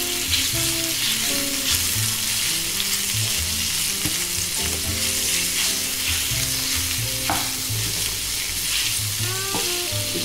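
Sausage meat sizzles steadily in a pan for sausage and sweetcorn penne, a loud continuous frying hiss with scattered clatter from stirring and pressing with a wooden spoon.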